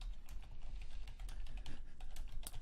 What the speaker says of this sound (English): I have to look at the keyboard when I type